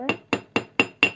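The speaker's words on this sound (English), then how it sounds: "I'm going to continue hammering these wires" A hammer strikes jewelry wire being flattened for an ear cuff, five sharp metallic taps in a steady, evenly spaced rhythm, close and clear with no talk.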